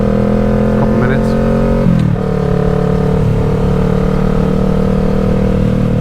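Motorcycle engine running steadily while riding on an early-morning ride near sunrise, a continuous loud drone with a brief dip in pitch around two seconds as the gear or throttle changes, then a steady hum again.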